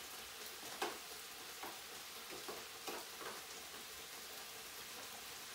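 Mushrooms with green and red peppers sautéing in a pan, a quiet continuous sizzle with a few light utensil taps and stirs, fairly faint and with no talking.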